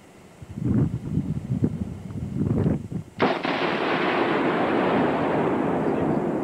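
A Carl Gustav recoilless rifle fires once on an outdoor range during anti-tank training, a sharp, very loud blast followed by a long rumbling wash of noise. Wind buffets the microphone beforehand.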